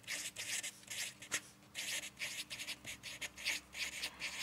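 Pen scratching on paper while working a physics problem, a series of quiet, close strokes in short rhythmic bursts separated by brief pauses.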